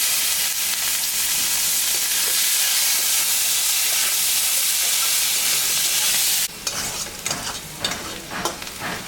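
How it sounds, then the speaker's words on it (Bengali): Chopped onions fry in hot oil with chillies, cumin and bay leaves for a village-style small-fish curry, giving a steady loud sizzle and hiss that thins into crackly, uneven spitting near the end. "পেঁয়াজটা ভাজা ভাজা হয়ে গেছে"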